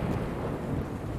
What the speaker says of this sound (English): I guess it's lightning?